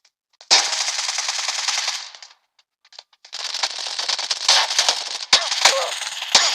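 Rapid automatic Vector submachine gun fire in the mobile battle royale game PUBG New State, two long loud bursts separated by a short pause, then scattered sharp shots at the end.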